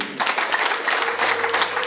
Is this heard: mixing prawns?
no